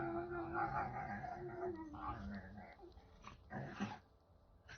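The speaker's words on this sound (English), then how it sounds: "So you guys get the live entertainment of the dog battle going on." Dogs play-fighting indoors let out low rumbling growls and yips, close and moderately quiet, with a whimpering edge near the end as the scuffle trails off.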